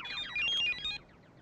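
A mobile phone rings with a bright electronic ringtone of rapid repeating chirps, steady and fairly loud with no talk over it.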